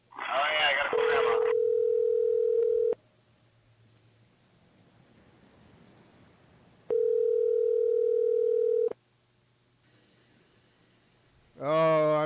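A telephone dial tone sounds in two steady bursts of about two seconds each with quiet gaps between, followed by a short warbling tone at the end.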